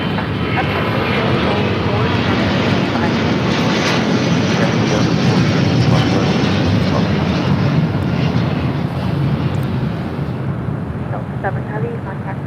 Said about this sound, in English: This is Delta Airlines Flight 7 Heavy taking off to Tokyo Haneda on the A330neo